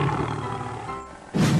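A tiger roars loud and close in a children's animal-sound game, a burst of deep growling rising near the end after a sustained lower rumble.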